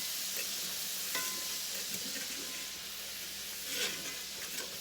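Butter browning in a hot pan for a budget chicken meal, giving a steady close sizzle and crackle with occasional stirring scrapes and no talk.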